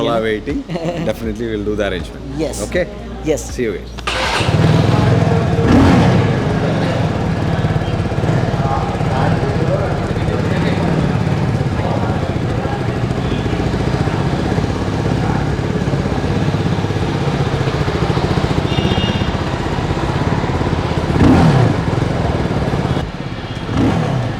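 A Benelli TRK 251 motorcycle engine fires up at a showroom in Kochi and runs with a loud, steady idle and revs, close by, as people talk before it starts.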